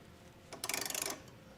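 A ratchet snugs down body bolts while Westin E-Series round nerf bars are fitted to a 2021 Chevrolet Silverado, a quick run of about a dozen light clicks, close and faint against quiet room tone.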